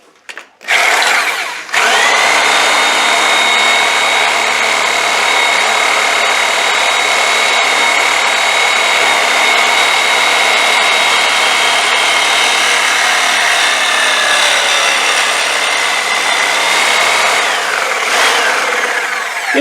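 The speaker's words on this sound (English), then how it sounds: "These are often called demolition saws." Demolition saw cutting open a Land Rover Discovery 2 exhaust silencer, a loud, sustained high-pitched metallic scream of the blade biting steel, starting after a short spin-up and running steadily for over fifteen seconds before winding down.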